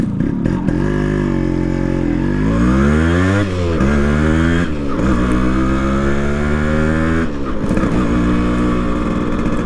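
A Yamaha RX100 motorcycle with an RX135 exhaust and its baffle cut revs close by in a loud, continuous run of raspy two-stroke engine noise, with repeated throttle blips that swell and drop the pitch.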